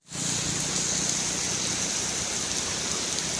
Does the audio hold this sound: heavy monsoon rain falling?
yes